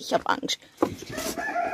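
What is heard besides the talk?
rooster crowing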